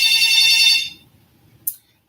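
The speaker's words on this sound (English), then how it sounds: "The telephone ringing though?" A telephone rings loud and close in a bright electronic tone for under a second, then cuts off into near silence before one short click.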